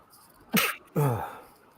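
Two quick, close sneeze bursts, a sharp intake-and-blast followed by a fuller, voiced second sneeze, in an otherwise quiet room.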